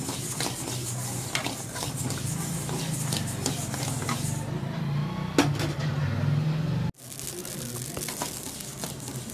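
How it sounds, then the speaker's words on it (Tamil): Mustard seeds dry roasting in a pan for homemade chilli powder, giving a steady crackle and scrape with light clinks of the pan and utensil, close and continuous, cutting off abruptly near the end and resuming more faintly. "கடுகு நல்லா லைட்டா பொரியற சத்தம் கேக்கும்"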